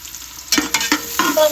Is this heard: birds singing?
no